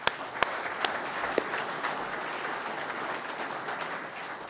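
Audience applause in a hall at a 2017 celebration event, a fairly faint, dense patter of many hands clapping steadily, with a few sharper individual claps standing out.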